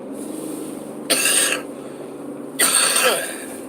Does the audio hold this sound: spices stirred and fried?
no